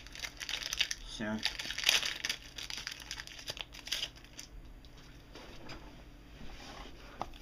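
Foil wrapper of a 2007 Topps football card pack crinkles and tears close by in irregular bursts, with a brief spoken word over it.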